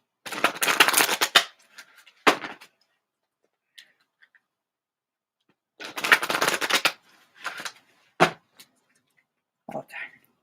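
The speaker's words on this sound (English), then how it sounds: "just pulling some cards for us" Tarot cards pulled from a deck and shuffled in quick riffling bursts, two longer flurries separated by scattered soft card taps and flicks, close and fairly loud with quiet gaps.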